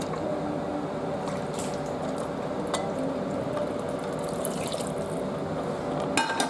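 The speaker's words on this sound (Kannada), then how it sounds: "ಸ್ವಲ್ಪ ನೀರು ಹಾಕೊಳ್ಳೋಣ ಇದಕ್ಕೆ" Water goes into a pan of tempered bisi bele bath mixture, producing a steady, moderate liquid pour and bubbling with a few light clinks and ticks, continuing throughout without speech.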